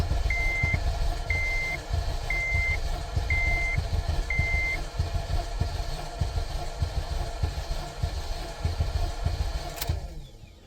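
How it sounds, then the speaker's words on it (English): A car engine cranks over steadily on the starter during a compression test, a continuous loud churning with faint repeated beeps in the first half, before stopping abruptly near the end. "I like to turn it over for about 10 seconds per cylinder"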